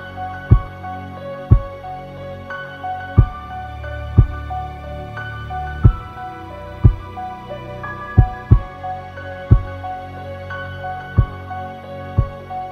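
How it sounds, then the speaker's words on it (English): Heartbeat sound effect in a Call of Duty Black Ops Cold War zombies-style theme built in FL Studio, thudding in steady deep pulses roughly once a second over a sustained droning synth chord, with a huge reverb breath, loud and upfront, no voices. "And then got a heartbeat and a huge reverb breath."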